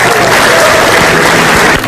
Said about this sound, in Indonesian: Tepuk tangan untuk Cici Panda.